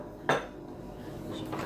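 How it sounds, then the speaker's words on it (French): Spoon lifted out of a bowl of melted chocolate, a single sharp clink of metal against the bowl followed by faint scraping and a light second tap, quiet and close. "Je vais juste enlever ma cuillère."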